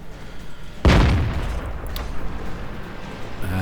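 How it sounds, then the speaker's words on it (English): Artillery fire in a tank combat video game: a single loud, close boom strikes suddenly, followed by a long rumbling decay over continuous battlefield noise. "there's artillery trying to end me again"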